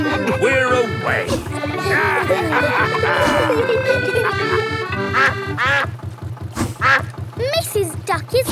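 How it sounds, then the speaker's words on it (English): A cartoon duck quacks repeatedly beside a chugging canal boat engine in a children's animated show, bright nasal quacks over a steady rhythmic motor beat, with voices talking. "Mrs. Duck is going faster than our boat."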